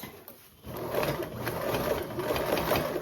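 A sewing machine stitches a quarter-inch seam around a fabric duffle bag, starting after a brief pause, then running in a steady, rapid mechanical whir with rhythmic clicking close by, no voices.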